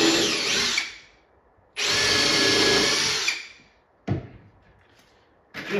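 A power drill drives exterior screws into wood blocks during an arcade cabinet restoration, with two long loud whirring bursts followed by two short blips, separated by quiet pauses.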